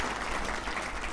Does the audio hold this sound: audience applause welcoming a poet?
yes